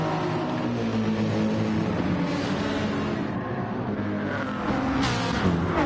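Race cars leaving the start at Watkins Glen in a racing game, including a Toyota Supra, several engines revving and droning together at close range with rising and falling pitch as the pack accelerates away.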